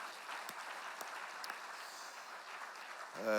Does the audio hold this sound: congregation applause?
yes